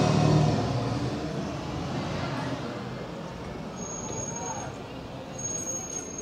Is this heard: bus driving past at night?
yes